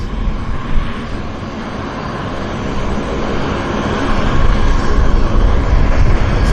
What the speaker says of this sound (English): the MAX is taking off for Calgary